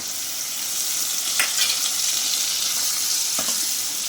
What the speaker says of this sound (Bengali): গ্যাসটা জোরে দিলাম, দিয়ে সমস্ত মশলা কষে